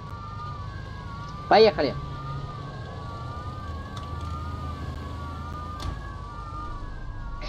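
Police sirens wail in a Mafia II street scene, a steady rising-and-falling tone running under the whole stretch while someone speaks briefly near the start.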